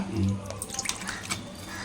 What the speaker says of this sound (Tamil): இப்போ நம்ம இதை ஃபில்டர் பண்ணி சேர்த்துக்கலாம்.